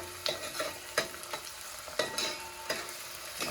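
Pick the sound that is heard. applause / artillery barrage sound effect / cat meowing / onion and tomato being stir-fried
onion and tomato being stir-fried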